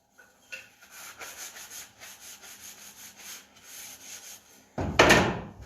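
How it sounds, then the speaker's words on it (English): Hand sanding a wooden chalkboard hanger along the grain: a soft, steady scratchy rubbing in repeated back-and-forth strokes, fairly quiet and close, ending in a louder burst of abrasive friction. "you want to make sure you're sanding along with the grain"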